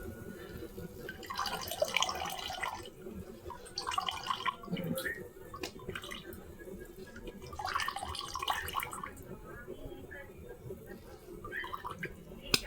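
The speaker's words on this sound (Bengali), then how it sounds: "ছানাটা চিপলেও কিন্তু এখনো জল বেরোবে" Water drips and trickles as freshly made chhena (cottage cheese) is squeezed by hand for rosogolla. The dripping is soft and intermittent, and a voice talks over it.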